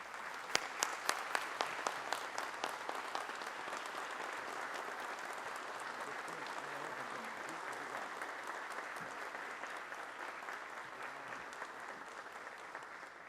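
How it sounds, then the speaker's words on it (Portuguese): An audience at a formal solemn session in a Brazilian hall bursts into applause, opening with a few sharp close claps and settling into sustained, even clapping from a large crowd. "Uma salva de palmas a ambos."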